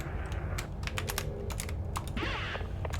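Computer keyboard keys clatter close by while someone plays Duskers, irregular sharp keystrokes spread across the stretch with short gaps and a quick flurry near the end.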